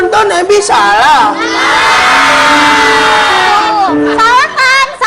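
A studio audience at an Indonesian TV talk show shouts a verdict together, a loud, sustained crowd yell lasting a few seconds, with excited voices talking just before and after.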